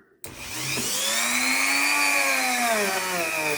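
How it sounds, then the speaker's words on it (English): A small handheld rotary tool whines as it cleans the wheels of a Lima Class 52 model locomotive, starting abruptly and holding a steady, shrill, close-up buzz with slight pitch wobble. "Give them a rub with T-cut and then take the rotary tool to them."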